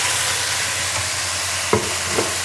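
Pieces of beef fry in hot oil, a steady close sizzle, with a couple of brief scraping stirs near the end and no talking.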